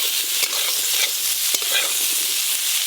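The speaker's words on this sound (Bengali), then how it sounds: "এবার সেদ্ধ করে রাখা ডুমুরগুলো দিয়ে একসঙ্গে ভালো করে ভেজে নেব।" Potato, aubergine and boiled figs fry together in a pan, a steady bright sizzle with a few soft stirring scrapes, close and continuous with no voices.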